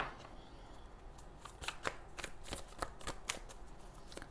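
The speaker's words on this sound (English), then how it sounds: "Let me just shuffle this out of the way." Tarot cards being shuffled by hand at a reading, a quick series of crisp riffling snaps and flicks close up, with no talking over them.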